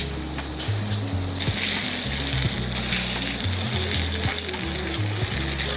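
Shrimp sizzling and frying in a pan while being stirred and turned, a dense steady crackle close by with scraping and shuffling as the pieces are moved.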